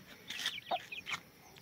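A rooster and hens cluck in a series of short, fairly faint calls at close range on a small backyard poultry setup, with no talking.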